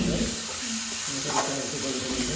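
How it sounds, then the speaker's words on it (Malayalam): Pineapple and semolina (rava) roasting in a pan for sheera, giving a steady close sizzle with light scraping as the mixture is stirred, while someone speaks over it. "പൈനാപ്പിൾ ഇട്ടിട്ട് നല്ലോണം വറുത്ത് കൊടുക്കണം"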